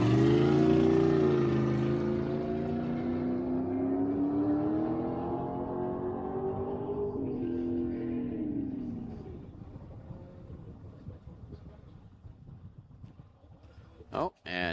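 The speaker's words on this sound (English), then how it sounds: "Oh, and engine shut down, or he missed the gear." Land speed racing car at Bonneville Speed Week on the salt flats. The engine roars loudly with rising and shifting pitch, then fades and cuts out, leaving quieter noise and a sharp knock at the end.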